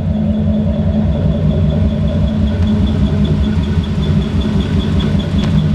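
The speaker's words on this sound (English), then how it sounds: "Car sounds phenomenal and runs awesome." A 1941 Ford with a 347 V8 and automatic transmission idles steadily close by, a loud, even rumble with a faint repeating tick running through it and no voices.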